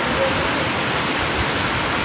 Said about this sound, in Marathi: दिवाळीमधला पाऊस